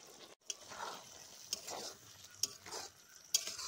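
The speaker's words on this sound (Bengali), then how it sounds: "এখন এর উপরে 1 চামচের মতো সর্ষের তেল দিয়ে আর কিছুক্ষণ জাল করে নিব" Taro-leaf shrimp cooking in mustard oil in a pan, stirred with a utensil: soft scraping strokes over a quiet sizzle, with four sharp metallic clinks against the pan spaced about a second apart.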